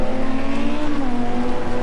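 A GT race car's engine revs flaring in rain at Snetterton, its rear wheels briefly lifting on standing water. The engine drones steadily with a rising, wavering tone, close and loud, with no voices.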